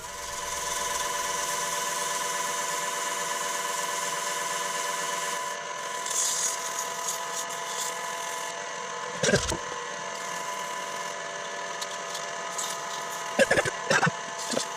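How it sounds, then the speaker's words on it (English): A noisy wood lathe turning a hydrangea lamp, a continuous loud mechanical whir with a tonal hum, later broken by a few scraping and tool-contact bursts. "Noisy sounding lathe,"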